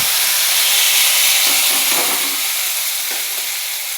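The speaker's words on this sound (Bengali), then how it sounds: "এবার ভালো করে ভাজতে থাকবো। এগুলো ভাজা চলছে" Chickpeas frying in oil with onion, garlic, green chili and tomato over cumin and dried red chili, a steady close sizzle with soft stirring scrapes now and then.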